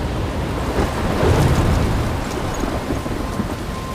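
A thunderstorm rages in the game Life is Strange, heavy rain roaring loudly with a deep rumble of thunder swelling in the middle, no speech.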